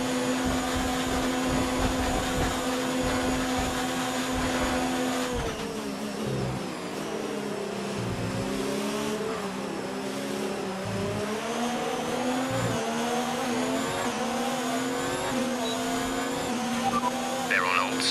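A Formula 2 race car engine in a racing video game whines loudly and continuously at high revs, shifting pitch through gear changes, with a race engineer's radio voice talking over it.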